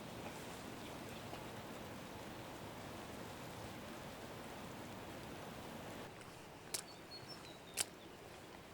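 Steady rain hisses evenly throughout, a dense wash of falling drops, with a couple of sharp chirps or taps near the end.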